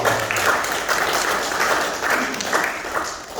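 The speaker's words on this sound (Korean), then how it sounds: "이거 축하할 일이죠. 박수 한번" Applause at the opening ceremony of a Daegu-Gyeongbuk logistics center, a sustained mass of clapping from a gathered crowd with rhythmic surges.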